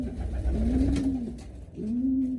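Homing pigeons in a loft of nearly a hundred birds give two low, drawn-out coos close by over a soft background murmur.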